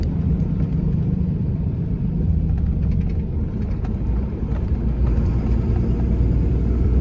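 A heavy HGV tanker truck creeps along a narrow Irish backroad, its engine droning low and steady with a continuous rumble and a slight swell as the gears work, heard from inside the cab with no talk.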